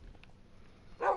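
A dog barks once in a Minecraft game, a single fairly loud bark near the end after a stretch of low background sound.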